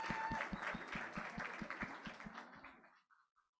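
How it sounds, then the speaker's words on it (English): A community satsang audience applauds the dancers, a dense round of clapping with some distinctly audible individual claps that thins out and stops around three seconds, leaving only a couple of faint trailing sounds. "Can we all give a big round of applause for each and every one of them?"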